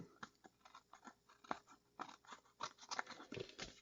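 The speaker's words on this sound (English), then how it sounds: "you just need to use your scissors to trim it" Quiet, crisp snipping and crunching from scissors trimming paper card for a greeting card, arriving in a quick irregular series of small cuts close to the mic.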